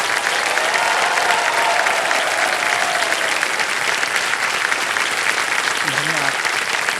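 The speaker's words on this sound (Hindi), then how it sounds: "इतनी जोर से ताली बजी है" Loud, steady applause from a game-show studio audience on Kaun Banega Crorepati season 17, sustained clapping filling the whole stretch without a break.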